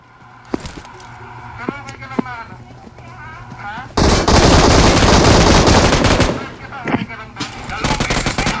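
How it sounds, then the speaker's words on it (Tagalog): Loud bursts of rapid automatic gunfire from a video game, a sustained roaring volley in the middle, with players talking excitedly before and after. "Ah, baril."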